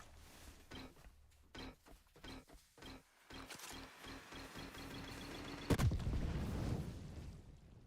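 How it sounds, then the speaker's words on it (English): Big grenade exploding in the video game The Last Caretaker, following a string of sharp rhythmic shots, then a loud blast that rolls into a sustained low rumble. "last big grenade"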